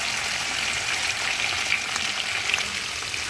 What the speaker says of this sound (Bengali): আমি 2 খেপে মাছটা ভাজবো।